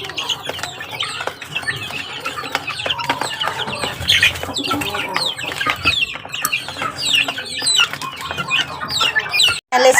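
Hens and chicks in a backyard coop cluck and chirp continuously, a dense busy flock close by with wings occasionally flapping, no talk over it.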